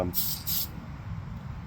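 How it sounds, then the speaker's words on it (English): Pearl clear paint sprays from a can onto a Tamiya Bigwig model car body outdoors in two short hissing bursts, close by, followed by quiet background. "we're going to hit it with the pearl clear"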